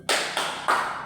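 Schoolchildren in an Indonesian primary classroom clap the 'tepuk salut' cheer, producing three sharp, loud claps in quick even rhythm with no talking.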